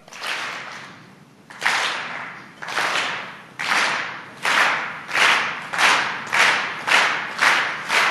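An audience at an expert presentation at a world congress on juvenile justice claps together on cue, about nine sharp unison claps arriving roughly every second and growing steadier and more regular.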